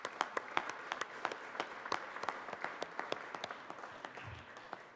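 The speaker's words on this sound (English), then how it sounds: "So let's give them all a big round of applause." Applause in the Colorado Senate chamber, distinct individual claps ringing out in a sparse, uneven rhythm from a modest group, fairly quiet and slightly distant, with no talk over it.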